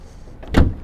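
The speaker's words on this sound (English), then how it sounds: "So let's go ahead and gently push the hood down." The hood of a 1983 BMW, similar to an E30, is pushed down and shuts with a single close, solid thunk after a brief rustle.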